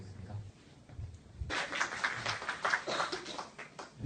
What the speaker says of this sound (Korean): 회장님이 나오실 때하고 박수가 다르군요